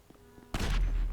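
Explosions in Grand Theft Auto V during a mission: a sudden, loud, booming blast bursts in after a quiet lead-in and rumbles on without fading, no voices over it.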